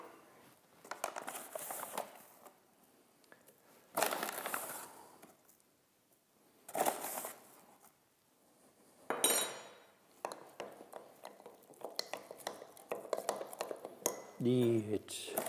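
A utensil stirs sourdough starter and flour in a bowl, with several separate bursts of scraping and clinking between quiet pauses, fairly faint and close.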